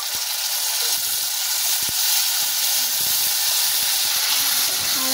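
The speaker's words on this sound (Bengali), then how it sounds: "আদা রসুন বাটাটা দিয়ে ভালো করে কষিয়ে নেব।" Ginger garlic paste fries with fried onions in a pan, making a continuous close hiss and steam-like sizzle, with scattered small pops and crackles throughout.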